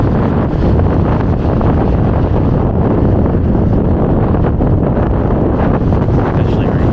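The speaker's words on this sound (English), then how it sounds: "The wind is really picking up." Strong, loud wind buffets the microphone continuously on a street in Yorkville, Toronto, in January, a dense roaring rush with no breaks.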